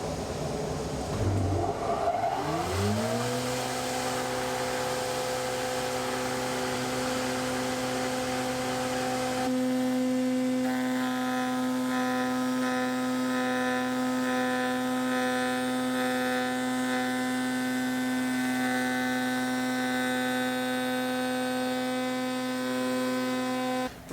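A spindle moulder spins up and cuts into a wooden jig, its steady close machine whine and hum rising at the start and then running on continuously, with the tone shifting slightly as the cutter works into the wood.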